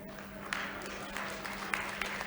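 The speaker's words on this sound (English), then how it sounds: "Yeah, you can clap." Scattered applause from an audience at a speech on local government reform in Nigeria, a faint, thin patter of claps with a few sharper individual claps, heard from a distance.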